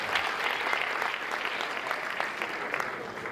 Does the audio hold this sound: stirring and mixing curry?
no